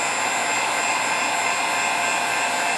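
A heat tool blows steadily at close range over liquid clay on a Celtic knot bracelet, a constant, even hiss of rushing air with no change in level, heard alone.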